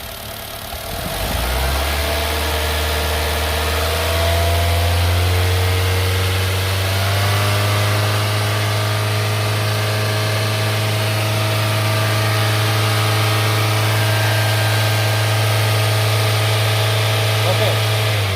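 A Honda Jazz car engine starts and then idles, then revs on the accelerator with a steady close drone that rises in pitch, and someone speaks over it.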